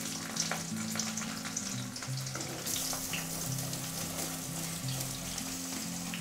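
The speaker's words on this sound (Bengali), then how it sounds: "এবার দিয়ে দেবো পেঁয়াজ" Onion dropped into hot oil already holding whole white cumin, bay leaf, cloves, cinnamon and cardamom, frying with a continuous soft sizzle, close by, with occasional light clicks of stirring.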